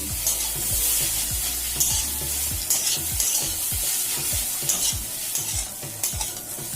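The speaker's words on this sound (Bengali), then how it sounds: "এইটাকে নাড়াচাড়া করে মিশিয়ে নিচ্ছি" A spatula scrapes rhythmically through ridge gourd and egg frying in a pan, the sharp stirring strokes coming in quick succession over a constant bright sizzle, close and fairly loud with no talking.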